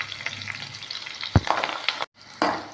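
Ginger, green chillies, neem leaves and asafoetida crackle in hot oil in a pan as a tempering for rava pongal. The close, lively sizzle carries a few stirring knocks and briefly cuts out near the end.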